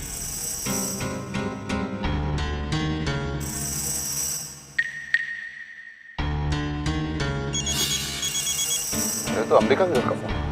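A telephone rings with repeated bright electronic trills, loud and close, pausing briefly before ringing again over a dramatic music bed.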